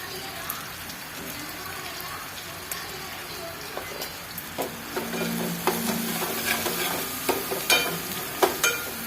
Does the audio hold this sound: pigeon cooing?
no